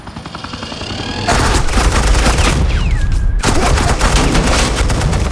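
Sustained heavy gunfire from the video game Telltale Batman, a loud continuous fusillade of rapid shots with a brief whistling sweep in the middle, dense and close throughout.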